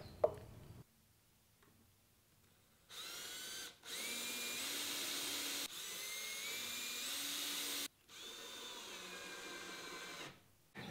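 A power driver whirs in several bursts while driving a screw into the fence of a small parts sled, a close motor whine with pitch shifts under load, separated by brief silences.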